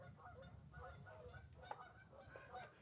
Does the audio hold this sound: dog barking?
no